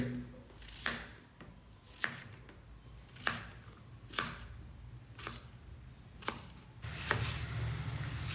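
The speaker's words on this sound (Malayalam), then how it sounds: "ഇനിയിപ്പോൾ നമുക്കിതാ അത് നുറുക്കിയെടുക്കുകയാണ് വേണ്ടത്" Repeated knife chops on a cutting board as taro is cut, about seven sharp strikes at an uneven pace, close by, with soft rustling between.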